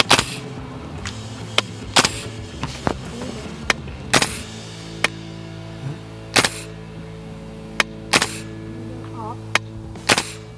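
A KWA gas blowback airsoft gun running on green gas fires sharp, snappy single shots at irregular intervals, about a dozen cracks over an outdoor gameplay session with a low steady background hum between them.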